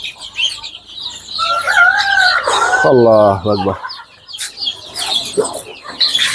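Native and hill chickens at a poultry farm cluck and squawk loudly up close, with a rooster crowing in the middle, while a voice speaks briefly among them.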